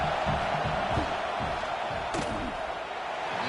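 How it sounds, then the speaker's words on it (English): A dense college football stadium crowd roars and drones continuously before a field goal attempt, a loud, distant wash of massed voices trying to rattle the kicker, with a brief sharper burst partway through. "This crowd trying to do its part to get inside the kicker's head."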